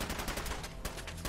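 Rapid automatic gunfire from the Fallout 4 video game, a dense burst of repeated shots crowding together over little more than a second, loud and close with no voices.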